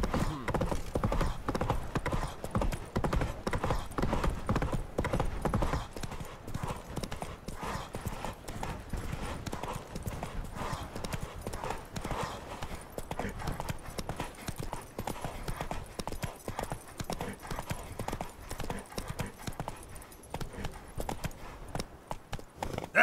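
Steady, close hoofbeats of the horse Roach trot in The Witcher 3: Wild Hunt, a continuous clip-clop rhythm that lasts the whole stretch with faint voices in the background.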